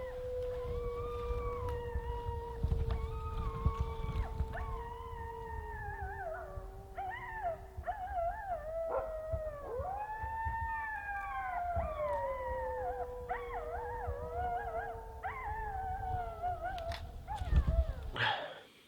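A pack of wolves howling in an Ontario park, several rising and falling voices overlapping in a long continuous chorus, at a moderate distance over low background rumble, with no talking.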